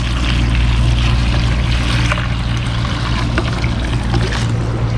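Water runs steadily as soap powder dissolves into it to make a cleaning mix for washing a bike; a loud, continuous rushing wash sits over a low hum, with no voices.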